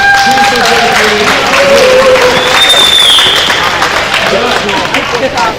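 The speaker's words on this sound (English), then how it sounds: "please give yourself a round of applause" Banquet guests applauding themselves at an awards event, a loud sustained wash of clapping with cheers and whoops rising over it for several seconds.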